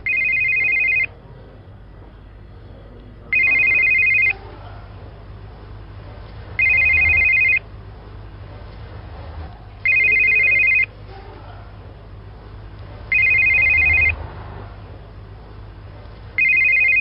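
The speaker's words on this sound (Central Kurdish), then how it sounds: "یەکێکتان ئەو تەلەفۆنە جواب دەنەوە" Indoor telephone ringing in a TV drama scene, six loud, evenly spaced electronic ring bursts about a second long separated by gaps, with low room noise and faint voices underneath.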